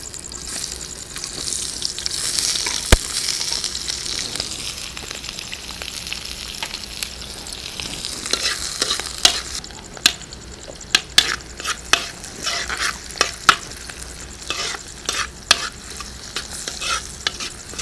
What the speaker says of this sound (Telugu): ఇప్పుడు ఉల్లిపాయ ఇంకా పచ్చిమిర్చి ముక్కల్ని దీంట్లో వేద్దాం